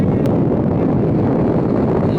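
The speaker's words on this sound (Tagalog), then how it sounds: "Ang hangin, oh." Strong wind buffets the microphone on a mountain road in the Sierra Madre, a loud, constant low roar with no breaks, and one brief tick near the start.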